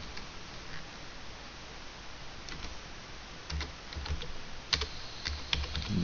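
Keys being typed on a computer keyboard while entering footnote text in OpenOffice Writer, a quiet stretch of soft, irregular clicks that grows busier and louder toward the end, with no one talking.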